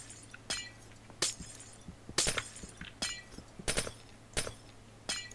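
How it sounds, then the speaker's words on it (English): Blocks being smashed in the Minecraft video game, heard as a series of sharp, glassy breaking crashes repeating at irregular intervals, moderately loud over a low steady hum. "Hey, stop smashing stuff."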